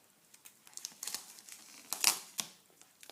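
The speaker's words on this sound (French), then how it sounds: "Et on met le scotch." Plastic book cover crinkles and adhesive tape pulls and sticks in a series of soft, irregular rustles and crackles, close and fairly quiet, with one sharper crinkle burst partway through.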